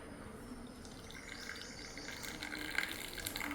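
Boiled aavaram poo (avaram flower) tea water is strained off, giving a soft, steady trickle and pour of liquid with faint bird chirps in the background and no talking.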